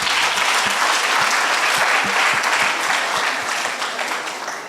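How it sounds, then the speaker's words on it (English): An audience claps steadily and loudly, a dense wash of applause that fades slightly toward the end, for two school teams at a debate competition. "Please give them a round of applause."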